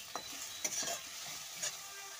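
Turmeric and salt fry with orange in a pan, a faint, soft sizzle with a few light spatula scrapes and taps against the metal.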